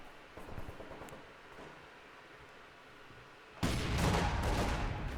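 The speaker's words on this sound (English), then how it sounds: "We've got the mortar attacking the building." Mortar shells pounding a building in a 3v3 strategy video game battle: a low, quiet rumble at first, then a sudden loud, dense roar of blasts that stays sustained to the end.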